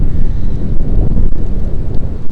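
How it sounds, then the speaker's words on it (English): Strong wind roars and buffets the microphone continuously, a heavy low rumble with gusty swells and no voices. "It is turned very windy, as you can hear."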